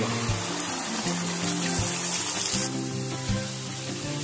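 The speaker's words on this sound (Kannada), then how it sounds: "ಈಗ ಈ ಎಣ್ಣೆಯಲ್ಲೇ ಒಂದು 2 ನಿಮಿಷಗಳ ಕಾಲ ಇದನ್ನ ಒಂದು ಮೀಡಿಯಂ ಫ್ಲೇಮ್ ಅಲ್ಲಿ ಇದನ್ನ ಹುರ್ಕೊಳ್ಳೋಣ" Masala paste for a brinjal and cashew curry frying in hot oil over medium flame, giving a steady close sizzle and crackle that runs throughout with no talking.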